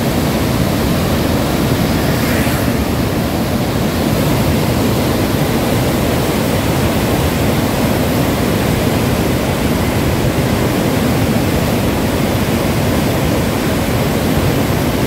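Fast water rushing beneath the kilometre-long Head Marala barrage bridge, a loud, steady broadband roar with no pauses, close and continuous throughout.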